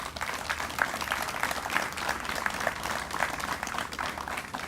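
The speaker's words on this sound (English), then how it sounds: "Let's give them a round of applause, please" A crowd at a Brotherhood Ride ceremony in Southwest Florida applauds fire chiefs, including Sanibel Fire Department's chief. The clapping is continuous and even, somewhat distant and soft, with a dense wash of overlapping claps throughout.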